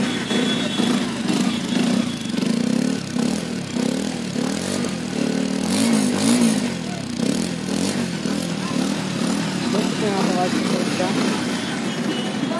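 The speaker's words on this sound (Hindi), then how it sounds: "एक बार गाड़ी चालू करके देखता मैं" A Bajaj Avenger 160 Street FI BS6 motorcycle engine starting and idling up close, a steady mid-pitched throbbing hum with a few light revs partway through while someone talks over it.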